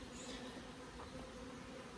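Honeybees swarming around a disturbed hive during a spring split, a steady, dense buzzing that holds close and continuous throughout with no talking.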